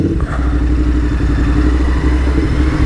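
Royal Enfield motorcycle riding through busy London traffic, its close, steady engine throb and rumble continuous and loud with some clatter, no voices.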